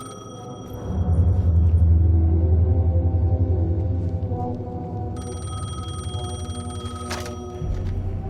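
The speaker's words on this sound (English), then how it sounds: "The payphone was ringing" A payphone ringing in Alan Wake 2 on a New York street, a repeated electronic bell tone over a low city rumble, with the ringing growing clearer and brighter toward the end.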